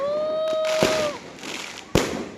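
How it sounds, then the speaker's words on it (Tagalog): New Year fireworks go off nearby: two loud, sharp bangs with crackling and a high whistling tone between them, close and outdoors. "Fireworks! Fireworks!"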